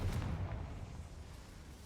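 A Confringo fire spell bursts in the Hogwarts Legacy video game, a deep, rumbling explosion that hangs low and steady before slowly easing off, with no talking over it.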